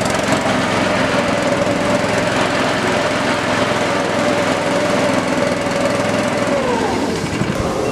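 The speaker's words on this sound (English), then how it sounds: "It's electric start Honda engine." An electric-start Honda engine on a Speed King box runs at a steady, loud, buzzy idle, close by, with a slight drop in pitch near the end.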